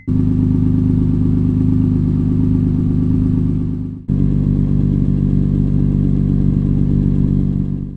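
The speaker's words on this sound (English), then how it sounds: "So of course, we gotta get that cold start ready." A 2002 Honda S2000 with about 160,000 miles idles after a cold start, its engine a steady, loud, even drone that dips briefly mid-clip and then settles back into the same fast, high idle.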